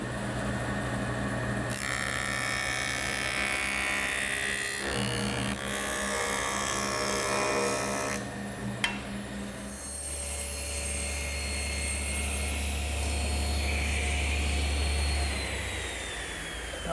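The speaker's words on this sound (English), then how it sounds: "I'm going to joint the long side, making it straight and square" A jointer planes the long edge of a glued pine panel, a steady loud machine whine with gritty cutting noise that shifts in tone between passes, alone and close up.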